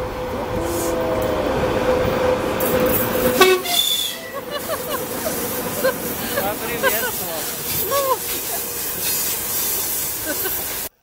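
A train rumbles past nearby with a long steady tone and hissing, then fades into outdoor noise with faint voices.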